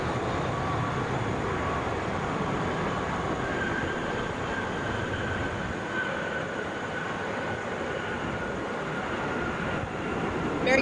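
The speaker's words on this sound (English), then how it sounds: "Airbus A320" A JetBlue Airbus A320 arriving at Atlanta International Airport after a flight from JFK gives a steady, broad roar that holds at constant loudness throughout, distant and unbroken, with a faint high whine above it.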